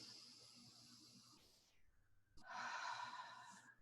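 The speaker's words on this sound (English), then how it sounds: "Deep breath." A single deep breath taken during an emotional freedom tapping exercise, a soft airy inhale followed by a fuller, louder exhale, close and alone with no talk.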